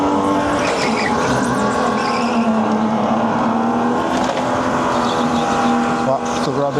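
A supercharged go-kart drones loudly and steadily at close range while racing in qualifying at Edison, NJ, with faint squeals and scrubbing from skidding tires and a voice speaking briefly over the engine.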